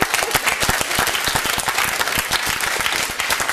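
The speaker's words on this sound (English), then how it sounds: "That was for you, that round of applause." Audience applause closing a live philosophy and theology debate in Uxbridge, a loud, dense round of clapping from a crowd, sustained and close, with individual sharp claps standing out.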